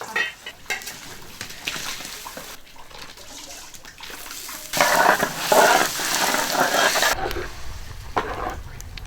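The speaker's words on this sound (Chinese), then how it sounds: "水开了，可以倒米了。" Rice pours into a pot of boiling water, a loud sizzling, splashing rush that swells midway and then drops into a low bubbling simmer.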